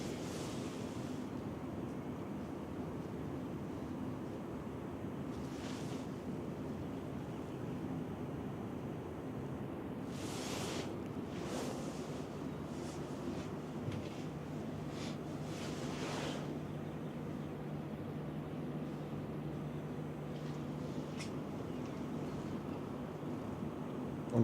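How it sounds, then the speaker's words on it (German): Steady broadband rushing water from a waterfall in Norway's Geirangerfjord, heard from a ship entering the fjord, continuous and fairly distant with wind noise and a low engine hum beneath. "Und dazu dann das Rauschen von dem Wasserfall."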